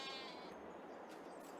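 Sheep in the Farming Simulator 22 video game bleat faintly against a steady hiss of background noise, one or two soft calls at a distance.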